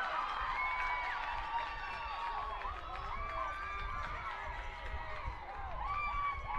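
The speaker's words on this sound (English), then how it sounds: "You can hear the crowd." Spectators cheer and shout at an IHSAA high school girls lacrosse game, a faint, steady mix of crowd voices and whoops heard from a distance.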